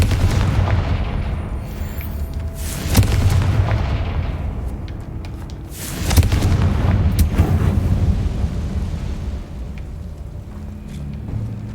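Confringo fire spell blasts in a Harry Potter video game, a string of deep booming explosions with rumbling low-end crashes, two big hits standing out, continuing for several seconds with no voices.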